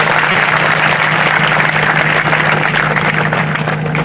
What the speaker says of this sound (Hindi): तो एक बात और जोरदार ताली बजनी चाहिए